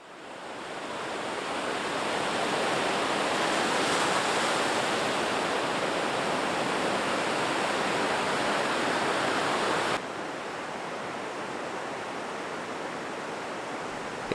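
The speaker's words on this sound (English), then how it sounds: "It's the Pacific Ocean, and we have low tide." Pacific Ocean surf at low tide on a Costa Rica beach, a broad steady wash of waves that swells at the start and drops slightly in level partway through, with no voices.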